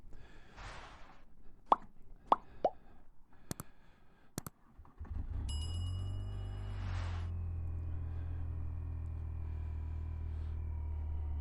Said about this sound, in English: They've really changed the sound of that engine.